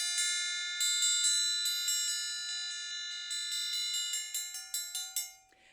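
An orchestral triangle struck on its low portion and left completely open, ringing bright and shimmering through a steady series of metallic hits that quicken into a fast roll before decaying, fairly quiet and alone.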